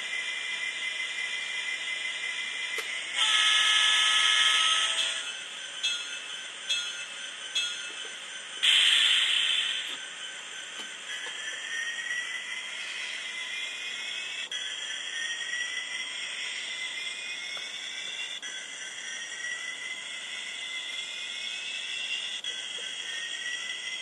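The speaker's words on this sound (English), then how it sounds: "There's an MRC sound controller fitted to an Atlas SD7." An MRC sound decoder in an Atlas SD7 model locomotive plays a thin, tinny diesel engine drone with a few louder bursts like horn or bell effects early on, steady and close without talk.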